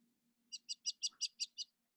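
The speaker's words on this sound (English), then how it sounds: "the birds are singing in my yard" Songbird outside an open window near a yard gives a quick run of seven clear, evenly spaced high chirps, close and distinct over a quiet room with a faint low hum.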